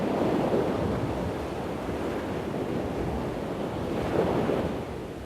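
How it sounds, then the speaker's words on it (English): Waves lap steadily on a sandy beach in Java, a continuous broadband wash of surf with gentle swells rising and falling, mixed with some wind noise and no voices. "right where the waves lap against the beach"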